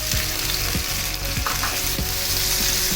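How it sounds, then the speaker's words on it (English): Prawns frying in hot oil in a pan over a medium-high flame, giving a steady, loud, close sizzle that carries on without a break, with faint periodic stirring scrapes underneath. "Now we are going to add the prawns."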